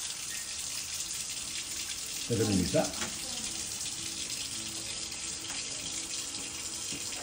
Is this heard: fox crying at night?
no